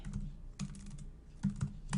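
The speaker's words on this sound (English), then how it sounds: "this is the thing with talking and typing at the same time" Quiet clicking of computer keys in short bursts, a few quick taps at a time with brief pauses between them, close and soft.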